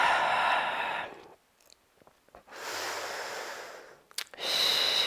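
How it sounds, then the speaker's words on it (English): Loud breathing during a lower-body strength exercise sequence: two long, noisy breath sounds near the mic separated by a quiet pause, then a third breath starting, with no talking. "Breathing."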